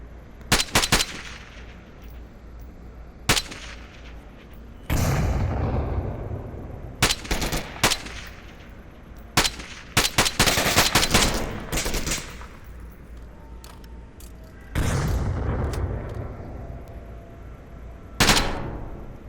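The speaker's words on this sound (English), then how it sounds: "It's a pistol, but it's still pretty loud." A pistol fires repeatedly in a video game, sharp loud shots spaced irregularly across the clip, some in quick bursts, with brief rumbling tails between them.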